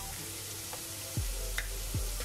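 Cooked chickpeas with salt sautéing in a pan, a soft continuous sizzle close by with a couple of low scraping stirs.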